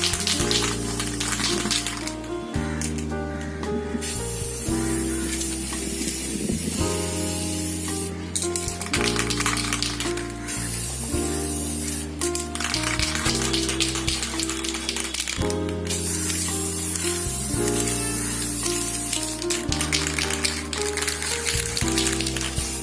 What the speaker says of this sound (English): for coloring, first of all, I will use this spray. It's a gray tone.